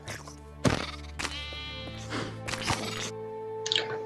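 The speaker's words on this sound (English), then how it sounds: "killing his biggest enemy, the sheep" Minecraft sheep bleats sound in short bursts, three or four wavering cries over a steady synthetic background tone, fairly loud and close.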